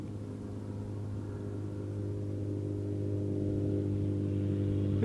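A car passes outdoors as a steady low engine rumble that slowly swells louder over several seconds, with no voices.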